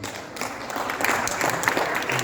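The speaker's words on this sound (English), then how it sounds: "they definitely deserve a huge round of applause" Round of applause from an event audience at an inDrive program, steady clapping that builds slightly in intensity, with a brief faint voice early on.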